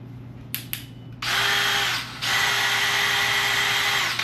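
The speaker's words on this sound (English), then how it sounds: "I need a drill and a plug." A power drill whirs in two long bursts after a couple of sharp clicks, loud and close, with a brief pause between runs.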